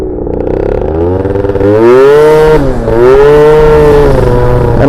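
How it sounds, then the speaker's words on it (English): Yamaha Jog scooter being ridden, its small two-stroke engine buzzing loud and close, pitch climbing steeply as it accelerates, dipping briefly at a shift, then rising again to a sustained high whine. "Man, I'm so happy with the way this bike rides."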